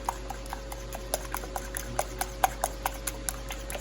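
Light, irregular clicking and tapping of a fork beating egg custard in a bowl for French toast, quick scattered strikes at close range with a faint steady hum of a preheated Ninja Foodi grill underneath.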